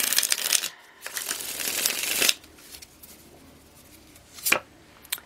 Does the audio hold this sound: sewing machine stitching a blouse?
no